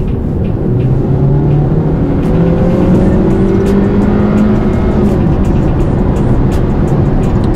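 A Volkswagen Jetta's 1.4 turbo engine accelerates hard from about 40 km/h, heard from inside the cabin as a loud, steady drone whose pitch climbs gradually with road roar beneath it.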